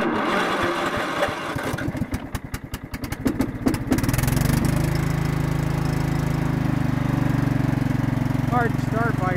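Murray-built Yard-King lawn tractor engine on choke with a weak battery: a few seconds of uneven, labored starter cranking, then it fires and settles into a loud, steady running drone up close.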